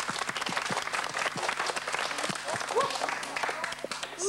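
An audience of young children and adults claps steadily in a room, dense scattered hand claps with a few high voices calling out over the applause.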